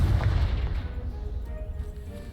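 Confringo blasting spell in Hogwarts Legacy sets off a deep, booming explosion that rumbles loudly and rolls on with heavy low-end resonance as it slowly fades.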